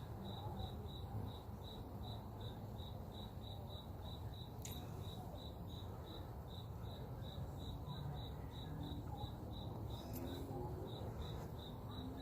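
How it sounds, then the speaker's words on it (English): Crickets chirp in a fast, steady pulse at dusk, loud and continuous from start to finish, over a low background hum with no talk. "The crickets, right? They just woke up. You could hear them now."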